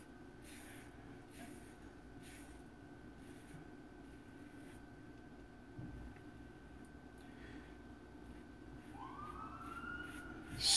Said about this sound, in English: Stupid sirens.